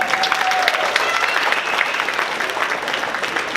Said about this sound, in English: give themselves a round of applause